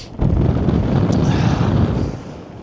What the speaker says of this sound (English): Seems to be a bit of a wind tunnel like.